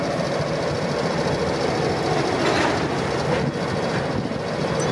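A V/Line Y-class diesel locomotive, Y156 in PTV livery, rumbles steadily at a station, with a constant broad roar and faint rail clatter throughout, loud and close, no talk.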